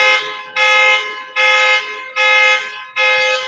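A car alarm blares on a New York City street, a loud, close electronic tone pulsing in five even bursts with short gaps between them.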